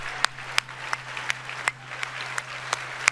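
Audience applause at the end of a livestream: sparse, evenly spaced hand claps, about nine sharp claps over a steady low hum.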